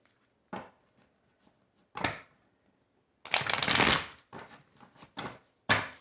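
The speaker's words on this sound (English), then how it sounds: "Last shuffle." A tarot deck being shuffled in several bursts: a couple of short riffles, then one long crisp flutter, followed by quicker shuffling sounds.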